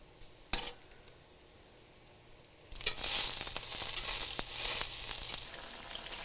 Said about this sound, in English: do the eggs on that bacon side, fried in the bacon fat